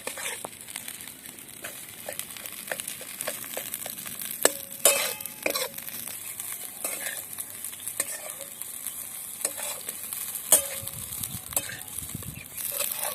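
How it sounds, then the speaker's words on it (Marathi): A peanut, salt and chili mixture fries in a pan while being stirred, a continuous close sizzle broken by frequent scraping and clattering strokes of the spoon, with no talk. "हे एकत्रित मिश्रण बनवलेलं आहे तर आता हे थोडा वेळ तळून घ्यायचं आहे"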